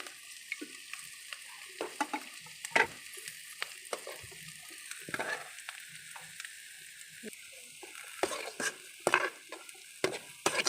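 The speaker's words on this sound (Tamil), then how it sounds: "இப்போ முட்டைக்கோஸ் சேர்த்துக்கலாம்" Shredded cabbage stir-fries in a pan for egg vegetable noodles: a soft sizzle under repeated scraping and clinking strokes of a spatula, close and fairly quiet, with no talking.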